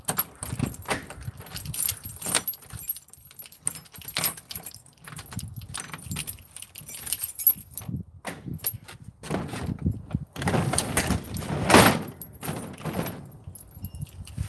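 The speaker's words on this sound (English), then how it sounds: "I'm trying to lock this stupid garage door" A bunch of keys jangles and clinks while a garage door is locked, repeated metallic rattles in irregular bursts up close, some louder shakes toward the end.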